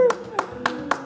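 A few people in a Turkish reality-show studio clap, four short separate claps at an even pace, heard over low talking and background hum.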